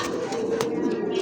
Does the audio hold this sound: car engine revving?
no